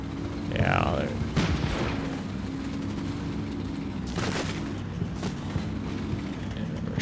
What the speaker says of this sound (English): they're shooting back though.